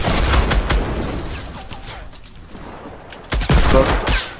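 Sniper gunfire in Fortnite, a burst of loud sharp shots at the start, a quieter gap, then another cluster of heavy cracks, with no voices.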